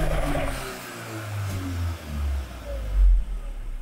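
A Volkswagen Golf 8R does a launch-control start, its engine revving and pulling hard with rising and falling surges, loud and close, with a heavy boom near the end.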